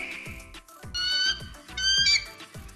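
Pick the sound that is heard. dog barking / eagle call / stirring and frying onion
eagle call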